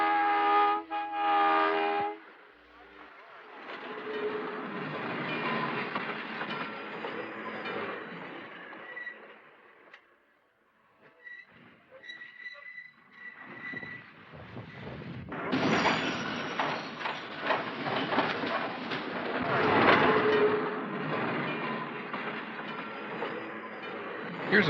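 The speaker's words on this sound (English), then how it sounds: "Here's a picture of the train running through the 40th Street cut." A Key System electric train rumbles along the rails with a steady rushing roar and rhythmic clatter through the 40th Street cut, fading briefly before a louder passage rolls by close up, preceded by a horn blast.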